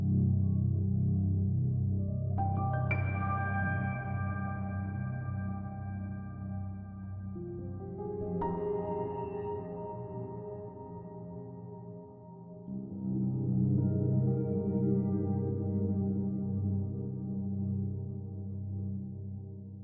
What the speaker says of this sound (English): The drifted piano is very, very, very moody.